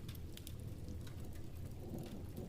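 Steady rain falling around a treehouse, a dense, even patter of drops that continues without a break.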